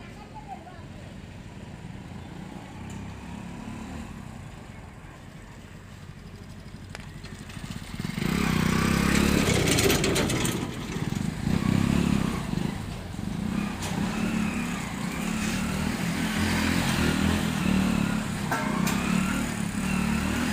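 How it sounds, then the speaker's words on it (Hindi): A motorcycle pulling an empty bike trailer roars past at speed, the engine note rising loud and rough midway and holding, with faint talk under the opening. "देखो एक बार खाली ट्रॉली का स्पीड में टेस्टिंग लिया"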